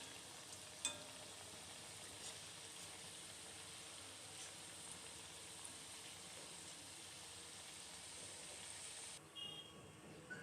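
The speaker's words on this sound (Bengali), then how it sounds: "আস্তে আস্তে এইভাবে আমি সবগুলো পিঠা ভেজে নেব।" Rice flour pitha frying in hot oil, a steady, even sizzle that holds for about ten seconds with no talking over it.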